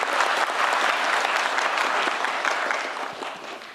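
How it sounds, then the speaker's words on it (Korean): Audience at a town hall meeting in Jeonbuk bursting into dense, sustained applause, a loud even wash of many hands that eases slightly toward the end. "박수 한번 주세요"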